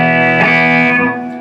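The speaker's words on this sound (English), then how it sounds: "So there's reverb." Electric guitar played through a Fender Champion 20 modelling amp with reverb switched on, a sustained chord ringing loud and alone, its tail washing out and fading toward the end.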